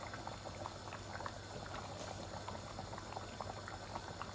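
Chicken and potato curry simmering in a pot over medium flame, a soft, steady bubbling and faint popping heard close and quiet, with no voices.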